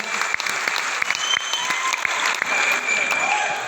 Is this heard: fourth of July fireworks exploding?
no